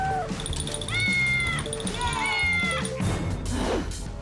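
Several drawn-out, high-pitched cat meows, synthetic and game-like, sounding in a row over a steady background tone, with a brief clattering crash near the end.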